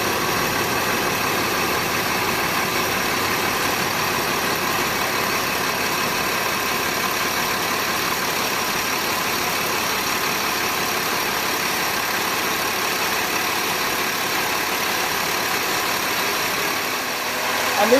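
A steady, continuous diesel engine idle hums evenly throughout, loud and close, with a low rumble and no pauses; Cummins QSC 8.3 diesel boat engines on a 2006 Sea Ray 440 Sundancer.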